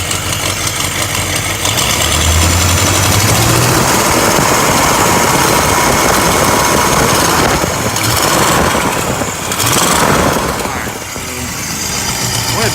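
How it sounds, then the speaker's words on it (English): A 1967 Pontiac GTO engine idles loudly and roughly while warming up, a constant close rumble with an extra noise running through it and some clattering in the middle stretch. "Definitely let this engine warm up a little bit to see if that noise goes away."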